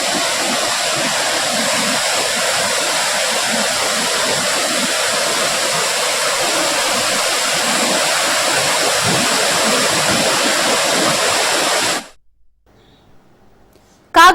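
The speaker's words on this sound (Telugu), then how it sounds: "పూచికపాడు రాసనగూడ మధ్యలో వాగు." A stream flowing between Poochikapadu and Rasanaguda villages, a steady loud rush of water filling the scene for about twelve seconds before cutting to near silence.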